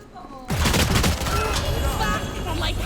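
Rapid gunfire in the shooter game Valorant, a loud close burst of shots at the start that settles into continued firing and game effects, with faint voices in the background.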